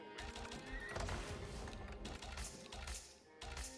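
A horse neighs in a Russian-language video game, a faint whinny mixed with hoof clip-clops and clicking sounds, with no talking.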